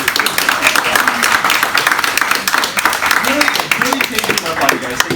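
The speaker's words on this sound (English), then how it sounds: "But give it a round of applause, please." Applause from an audience at a Halloween improv comedy show, steady loud clapping lasting several seconds with cheering voices mixed in.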